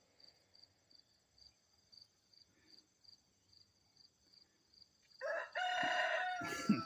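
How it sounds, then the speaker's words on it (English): Chickens out in the open, with a rooster crowing loudly and hens clucking near the end, after several seconds of rhythmic insect chirping at low level. "Got the chickens really going."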